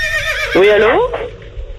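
A horse gives a loud, close whinny lasting about half a second, its pitch sliding down and wavering, followed by a short hoof knock while someone speaks into a phone around it.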